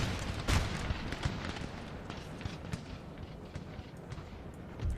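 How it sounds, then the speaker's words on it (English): Cannon and artillery fire in the Napoleon Total War battle game, with repeated booming shots and scattered distant volleys over a continuous rumble of battlefield noise, irregular in rhythm and moderately loud. "Let's get the artillery focusing there."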